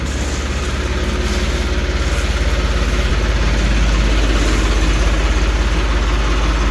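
A tractor engine idles steadily at close range, a low rumbling chug that holds constant throughout with no voices.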